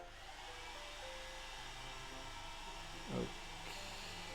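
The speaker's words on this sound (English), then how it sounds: "Suddenly I hear a vacuum cleaner." A vacuum cleaner drones steadily at low volume in the background of a Doki Doki Literature Club video game scene, a faint continuous whir with a brief bump near the end.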